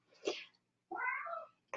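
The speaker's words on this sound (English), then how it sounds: "Cats are going crazy too." Cats meowing indoors, a few separate close calls: one short cry, then a longer drawn-out wavering meow, then a brief clipped call, with no talking.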